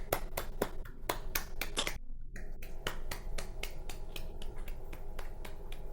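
Audience members at a Brooklyn poetry reading snap their fingers in place of clapping. Sharp, rapid snaps overlap in a steady run throughout, pausing briefly midway before resuming.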